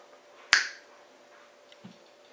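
One sharp, close finger snap rings out alone in a quiet room, followed by a faint low thump moments later.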